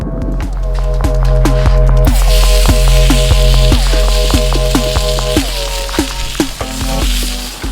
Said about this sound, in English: so we seared off our burgers, just a few, about 30-45 seconds on each side